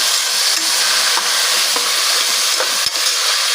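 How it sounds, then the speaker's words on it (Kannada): Beans, carrot, peas and potato frying with onion in a pan give a steady, loud, close sizzle with a few faint scrapes and clicks, and no voices. "ತರಕಾರಿ ಎಲ್ಲ ಚೆನ್ನಾಗಿ ಫ್ರೈ ಆಗಲಿ"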